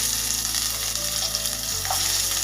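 Onion frying in hot oil for Odia-style masoor dal, a dense, steady sizzle and crackle close by, with a faint stirring scrape partway through.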